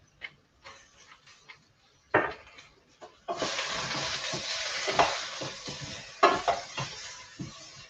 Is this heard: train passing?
no